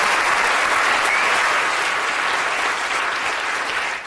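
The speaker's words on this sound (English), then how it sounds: "I think we need to give a big round of applause to Professor Eric Hayes" A lecture audience applauds Professor Eric Hayes with a full, even wash of clapping that holds loud for several seconds before easing slightly at the end.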